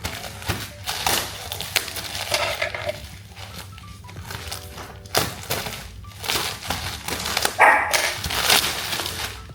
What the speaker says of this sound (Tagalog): Yung aso ko pala lumatahol.